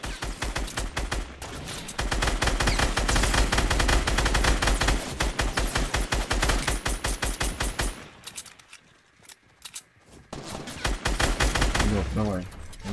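Dense automatic weapon fire from a Fortnite match, with rapid bursts and sustained volleys that stay loud for most of the stretch, then drop to a brief lull and return near the end. Faint voices mix in under the shooting.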